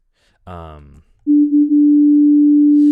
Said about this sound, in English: Basically, it's a sine wave, but the phase will be shifted.